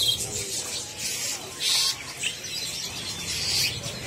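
Birds calling among the cages of a bird market, including a sooty-headed bulbul, with bright repeated chirps and tweets rising over a busy low background murmur.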